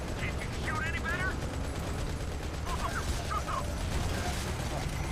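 Gunfire from the Modern Combat 5 Blackout video game, a steady dense rattle of shots with mechanical clatter running under faint game voices and chirps throughout.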